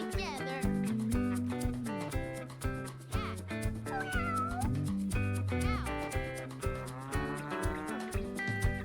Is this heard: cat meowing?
yes